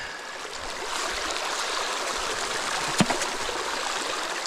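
Water rushes steadily through a gold-mining sluice box, a continuous broadband wash of flowing and trickling water with a brief splash near the end.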